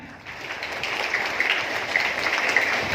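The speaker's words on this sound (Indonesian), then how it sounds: "Tepuk tangan" Applause from a gathering at a year-end Pramuka scout camp opening ceremony at MIN 2 Blitar, a steady wash of many hands clapping that swells slightly and holds at a moderate level.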